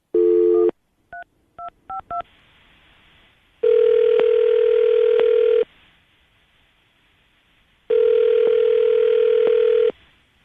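Steady dial tone cuts off, several touch-tone beeps follow in quick succession, then two long ringing tones sound with a gap between them.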